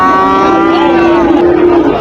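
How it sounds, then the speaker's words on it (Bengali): Calves and cattle at a busy livestock market in Joypurhat, including crossbred heifer calves and Sahiwal bull calves, with one long, loud moo lasting nearly two seconds over steady crowd noise. "অনেক সুন্দর সুন্দর কোয়ালিটির বাছুর রয়েছে আজকে হাটটিতে।"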